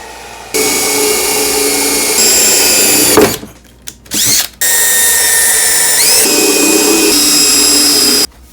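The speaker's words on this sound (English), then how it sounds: "And now we'll get started drilling." A power drill bores into a garage tool chest with a loud, close, high whine that shifts pitch as it runs. It stops briefly twice in the middle before starting again, then cuts off at the end.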